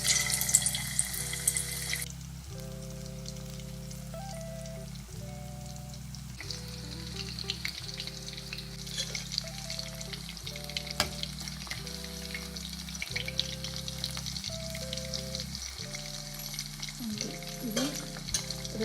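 Chicken pakoda pieces fry in hot oil, giving a steady, quiet sizzle that runs throughout beneath a stepped tonal melody.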